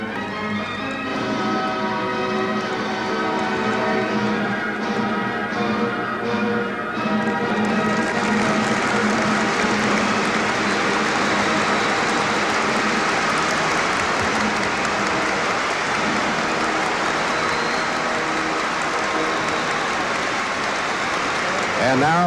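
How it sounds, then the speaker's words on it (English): A large audience in Philadelphia applauds loudly and continuously, swelling into a sustained roar after a four-minute performance, with a commentator's voice and a musical ending underneath at first. "And now they stand and applaud emphatically in Philadelphia for Miss Peggy Fleming."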